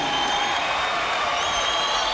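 A boxing crowd at the Reno Event Center cheers steadily after a heavyweight title bout, a dense wash of applause and shouting at even loudness throughout, with no clear lulls or single voices standing out.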